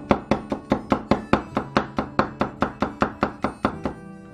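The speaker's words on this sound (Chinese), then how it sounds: "再准备一瓣蒜，把大蒜给切成片即可。" A knife slices a single garlic clove on a cutting board with about sixteen crisp, evenly spaced chops in quick succession, close and clear with no talking.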